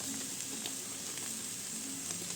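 Egg-coated eggplant slices fry in a pan with spice mix, giving a bright, steady hiss and crackle that continues without a break, close and fairly quiet.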